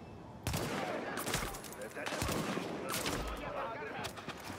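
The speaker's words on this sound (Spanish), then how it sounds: "¿Quién me está disparando así?" Repeated bursts of automatic gunfire in the shooter game The Division, loud and sustained with several separate volleys across a few seconds, mixed with in-game ambience.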